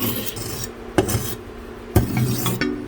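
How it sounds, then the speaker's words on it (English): A knife blade is dragged across an unsharpening stone to dull it, giving three short, gritty scraping strokes about a second apart, close and moderately loud. "Now let's unsharpen this knife."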